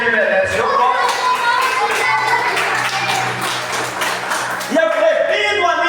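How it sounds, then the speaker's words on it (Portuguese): A church congregation applauds the name of Jesus, a dense, sustained clapping with voices mixed in and a louder swell near the end. "aplauda o nome de Jesus, que Ele merece"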